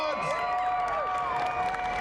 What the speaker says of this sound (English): Can I get cheers for more dogs?